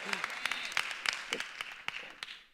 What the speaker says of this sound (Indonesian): Udah yakin tuh tepuk tangannya kayak begitu?